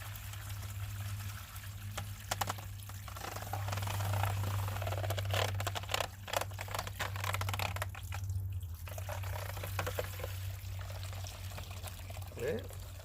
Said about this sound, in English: My hose with running water, and then just gently rinse it down